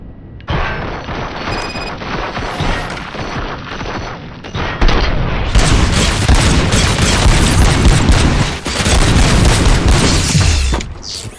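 Heavy gunfire and booming blasts in the RoboCop: Rogue City video game form a loud, sustained barrage of rapid shots that rolls on for several seconds with no talking.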